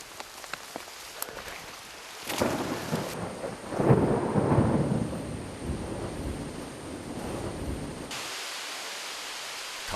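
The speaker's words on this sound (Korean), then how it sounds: "갑자기 쏟아지는 장대 같은 소나기." A sudden heavy downpour hisses steadily in the open air, broken by a deep rolling peal of thunder, then settles into constant rain.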